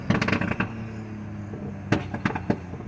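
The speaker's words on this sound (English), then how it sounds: "Too many pops and bangs, actually." A turbocharged BMW N20 320i exhaust fires rapid pops and bangs, a dense burst of crackles, then a quieter stretch, then more sharp bangs, loud and close with steady engine noise underneath.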